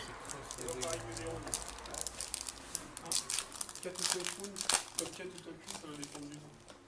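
Trading card booster packs from a display box being torn open and handled, with repeated crinkling and tearing of foil wrappers and bursts of crackle while a person talks throughout.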